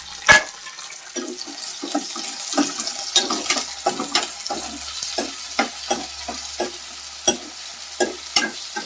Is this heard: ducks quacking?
no